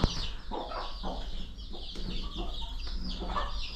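Broody desi hens sitting on eggs at a country poultry farm give soft, repeated clucks over a steady low hum, fairly close, with brief murmurs of a voice now and then.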